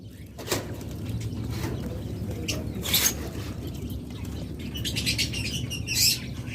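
Caged lovebirds chirp and flap, with sharp tweets and brief bursts of wing fluttering over a low steady background hum, close and moderately loud, with no talking.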